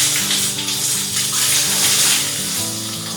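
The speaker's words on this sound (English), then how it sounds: "You just get a bucket like this, fill it up with water, just pour it over here." Water tipped from a bucket during a Filipino bucket shower, a loud, steady splashing gush lasting about three seconds with a faint tonal hum underneath.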